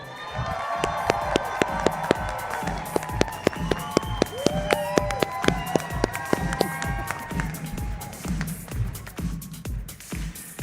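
A large convention audience at a company awards event applauds and cheers continuously, dense clapping with whoops and shouts rising and falling, loud and close throughout.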